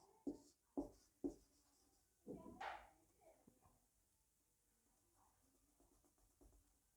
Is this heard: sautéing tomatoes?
no